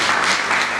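A brief burst of dense audience applause at a formal gathering, loud and continuous for under a second.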